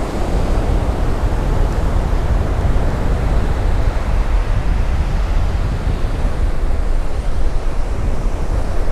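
Strong wind blasts the microphone while ocean waves crash along an island coast in Thailand, a loud continuous roar of surf and gusts with no break.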